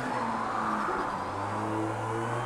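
Race car in the Project Cars 2 video game in snowy weather, engine droning steadily with a sustained tire skid squeal layered over it, continuous and fairly loud.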